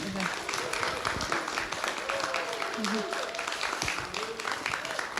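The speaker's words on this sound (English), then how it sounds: "Let's give them one more round of applause" A museum audience gives a round of applause after a Saturday talk, a continuous wash of clapping at moderate level, with a few voices and tonal sounds poking through.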